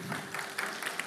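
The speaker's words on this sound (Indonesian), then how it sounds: "Berikan tepuk tangan untuk Tuhan Yesus" A church congregation claps for Jesus during a charismatic worship service, a brief, dense wash of many hands with a few louder bursts.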